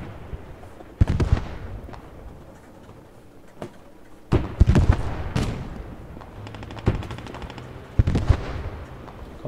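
Heavy gunfire from an 88 mm FlaK 36 anti-aircraft gun shooting at a tank in the video game Post Scriptum, with several loud, sharp booming shots spaced a few seconds apart and rumbling, crackling tails between them.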